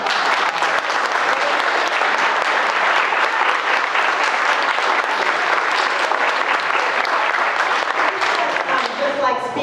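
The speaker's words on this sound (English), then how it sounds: "give these candidates a round of applause" An audience at a county NAACP candidate meet-and-greet claps for the candidates, a dense, loud, sustained round of applause from a crowd that fills the whole stretch, with some voices mixed in.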